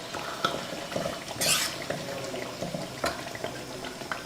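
A spoon stirs and scrapes through thick chicken curry in a pan, with a low simmering hiss and one brief louder clatter.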